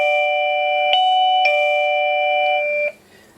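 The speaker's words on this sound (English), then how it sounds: "Today I'm going to take a closer look at this wireless doorbell. So this is how it sounds at maximum volume." A wireless plug-in doorbell chime set to maximum volume rings loud and close, a clear electronic melody of several bright tones that rings out and cuts off after about three seconds.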